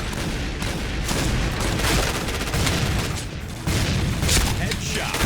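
Rapid gunfire from Point Blank, a first-person shooter match, crackling in dense, loud bursts almost without pause, with a player's excited voice faintly underneath.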